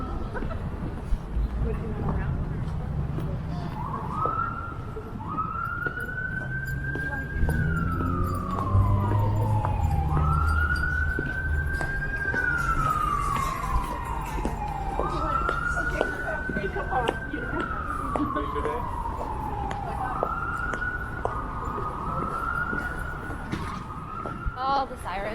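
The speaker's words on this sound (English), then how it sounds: "All the sirens." Emergency vehicle sirens wailing through Toronto streets at rush hour, a slow rising-and-falling cycle repeating about every five seconds, moderately distant over a rumble of traffic.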